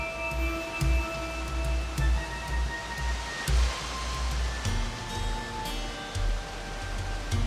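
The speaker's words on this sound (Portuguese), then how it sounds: "o ribeirão fica bem acidentado e surge um paredão de pedra por onde a água escorre" A forest stream spilling down a rock wall in dense woodland: steady, broadband rushing water with a constant close roar and faint rhythmic low thumps underneath, no voices.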